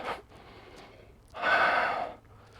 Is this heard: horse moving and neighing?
no